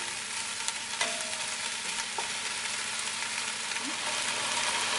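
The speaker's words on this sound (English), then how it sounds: "Everything's fried off nicely in the oil" Onions, leek and potatoes fry in oil in a pan for pumpkin soup, giving a steady, dense sizzle with the occasional stir or faint clink, close and continuous with no talking.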